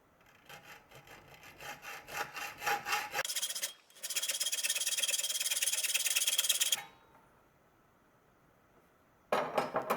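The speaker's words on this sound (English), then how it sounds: "Back to our hacksaw." A hacksaw cuts a piece of brass clamped in a vise between two wooden blocks. Quick rhythmic rasping strokes give way to a steady loud grinding run, then a pause before the sawing resumes. No one speaks.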